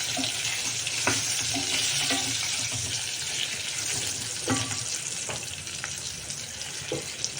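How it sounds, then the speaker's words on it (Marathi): Eggplants frying in oil in a pan, a continuous dense sizzle with occasional spatula scrapes and clicks, steady and close throughout. "या पद्धतीने वांगे आता छान असे तेलात परतू द्यायचे"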